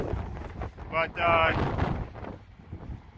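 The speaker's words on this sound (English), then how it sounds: "Oh, it's a little windy, choking on the wind." Strong 45-50 mph wind buffets the microphone outdoors near the shore in Traverse City, a loud rumbling roar with gusts, while a person speaks briefly under it.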